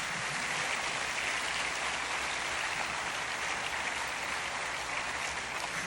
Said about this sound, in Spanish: Si va a aplaudirlo, déle un aplauso fuerte al Señor Jesucristo.